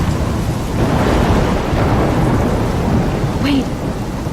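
Heavy thunderstorm with rumbling thunder and steady pouring rain in the Life Is Strange video game, loud and continuous throughout.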